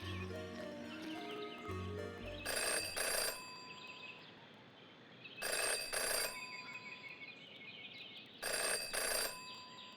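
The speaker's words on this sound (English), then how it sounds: "Jenny had learned never to ignore a ringing phone" An old-style telephone bell rings in the detective puzzle video game Jenny LeClue, three distinct bursts of bright metallic ringing spaced a few seconds apart over a quiet ambient hum, after soft musical notes at the start.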